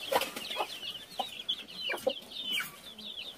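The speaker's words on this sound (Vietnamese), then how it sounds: "Nhà anh Quả là có đi nghiền ngô để mà cho con gà ăn đấy ạ." Free-ranging chickens at a rural Vietnamese home cluck softly in short scattered bursts, fairly faint and somewhat distant, with no talk over them.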